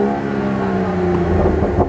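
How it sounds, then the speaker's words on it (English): A BMW M235i engine revs hard while the car sits stationary, giving a loud, close, sustained tone whose pitch climbs toward the end, with no voices. "As soon as I start revving the car"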